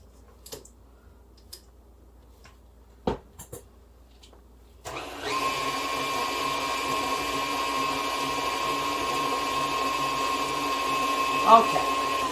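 After a few quiet clicks and handling noises, an electric mixer starts up and whirs steadily on a low setting through homemade cookie dough with egg and flour, a continuous close motor hum.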